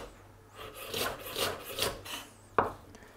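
Knife slicing asparagus thinly on an angle on a cutting board, a quiet series of rhythmic scraping cuts ending in a sharp tap of the blade on the board.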